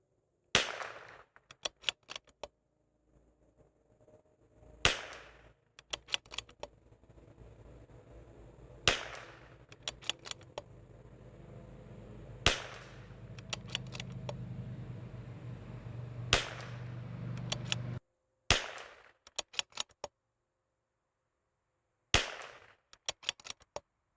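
A .22LR rifle fires at a chronograph outdoors: sharp, loud single cracks spaced several seconds apart, each followed by quick rattling echoes or clicks, with faint background hum between shots.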